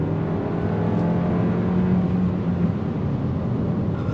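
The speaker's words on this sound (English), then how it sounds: "makes typical four-cylinder sounds, but it's not too much vibration" A 2024 Kia K5 GT-Line sedan's four-cylinder engine pulls steadily under throttle, a loud, continuous droning hum with a rising pitch, heard from inside the car with no talking.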